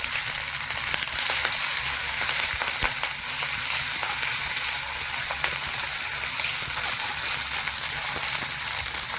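Curry leaves and a potato mixture fry in a pan for potato chops, a steady close hissing sizzle with faint stirring scrapes throughout and no talk.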